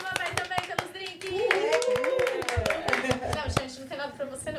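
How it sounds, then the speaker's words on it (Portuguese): A few people clap their hands in a home setting during a casual podcast recording, with sharp separate claps around lively talk and laughter close to the microphone. "Palmas para a mamãe também pelos drinks."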